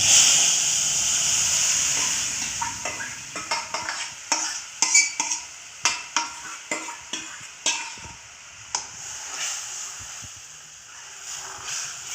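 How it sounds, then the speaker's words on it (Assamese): Elephant apple (outenga) tipped into a hot pan with spices, a loud hiss of frying at first, then rhythmic stirring scrapes over a continuing steady sizzle. "এতিয়া ঔটেঙাখিনি মই ইয়াত ঢালি দিম।"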